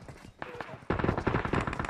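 Gunfire in a multiplayer shooter video game, a burst of rapid, loud shots that starts abruptly and keeps going, with faint voices of players underneath just before it begins.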